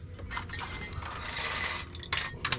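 A ratchet wrench clicks in short metallic bursts while working on a bolt under a 2005 Chevy Suburban, close and fairly quiet, with faint shop noise around it.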